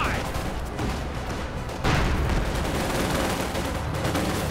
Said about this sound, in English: They're shooting at our Su-85.